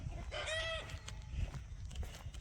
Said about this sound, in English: Dang dog is going after the goose.